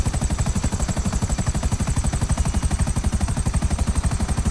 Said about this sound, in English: it's a good thing we brought our helicopter